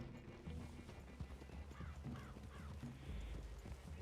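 Soft hoofbeats clop at a walking pace over a low outdoor rumble, with a horse snorting faintly and a few distant bird calls, in the video game Red Dead Redemption 2.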